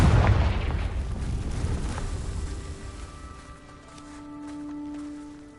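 A Confringo fire spell exploding in Hogwarts Legacy: a heavy booming blast up front that rolls off into a long rumbling tail with a faint lingering tonal hum.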